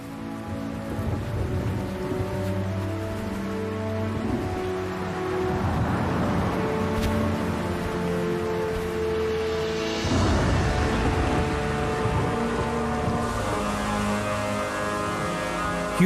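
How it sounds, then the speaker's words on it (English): A mountain thunderstorm pours steady heavy rain, a dense continuous hiss, while deep thunder rumbles roll in and swell, loud and unbroken with no voices. "a mountain thunderstorm is extremely dangerous"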